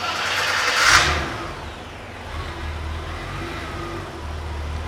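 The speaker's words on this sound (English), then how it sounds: "So it's running, idle's a little bit finicky." A BMW E30 325i on a stock Motronic chip cranks and catches, with a brief rev burst, then settles into a slightly uneven idle. The engine is close and loud, and no one speaks.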